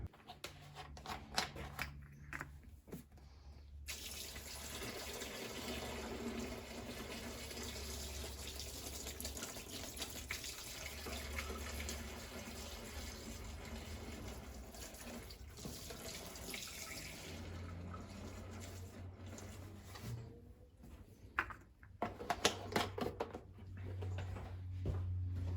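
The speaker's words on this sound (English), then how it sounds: "Let's dump some parts washer in here and actually see how this goes." Parts washer fluid is poured into a DIY benchtop parts washer, giving a sustained gushing splash for about fifteen seconds between short clatters of handling.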